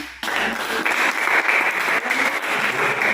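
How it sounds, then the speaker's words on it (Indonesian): Classroom applause for a student after a presentation at a vocational high school, starting abruptly after a brief quiet moment and continuing as a steady, moderately loud patter of many hands. "Kita beri tepuk tangan untuk teman"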